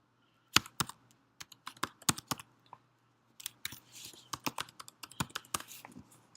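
Typing on a computer keyboard to enter a Gmail password: close, quiet clicks in uneven bursts with a short pause midway, then a denser run of keystrokes, with no talk.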